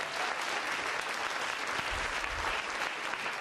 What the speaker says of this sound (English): So let's give them all a big round of applause too.